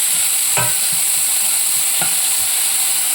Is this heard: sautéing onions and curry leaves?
yes